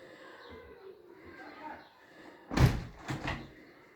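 An aluminium door in a house swings shut with a sharp metallic slam followed by a softer rattling knock, after quiet moments of faint voices and room noise.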